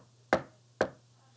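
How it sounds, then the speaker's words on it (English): Two sharp knocks on a door, evenly spaced and close, against a quiet background with a faint low hum. "at that moment, there was a knock on the door."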